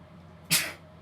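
A single sharp sneeze bursts out close by, brief and loud, with quiet before and after.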